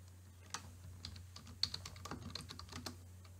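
Quiet keystrokes on a computer keyboard as a table title is typed, a light irregular patter of taps close by, with no speech.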